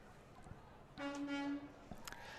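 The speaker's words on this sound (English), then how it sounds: "gotta honk that horn" A single truck horn blast sounds for about half a second, steady and fairly close, over quiet background noise, at a parade of lights.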